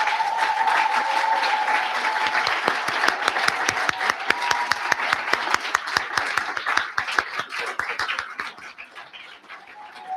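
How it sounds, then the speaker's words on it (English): A seated audience at an academic achievement ceremony applauds the teaching assistants as they stand, dense clapping swelling near and steady before gradually thinning out, with faint bird cooing in the background. "please stand up so we can applaud you"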